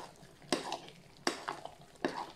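Three close, wet squelching bursts of a sticky minced chicken mixture being kneaded by hand, spaced about a second apart.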